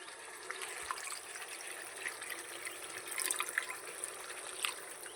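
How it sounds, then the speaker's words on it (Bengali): Water is poured into a pan of fish curry at the stove, a faint, soft trickle and splash that goes on steadily with a few small dripping accents. "তো এরপর আমি পরিমাপ মতো আর একটু জল দিয়ে দেবো"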